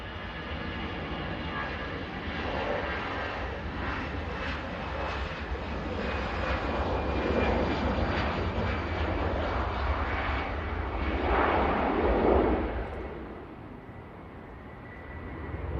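An Ethiopian airliner landing on runway 05 right at Manchester Airport, its engines giving a steady, moderately distant roar that swells and then fades as it rolls out.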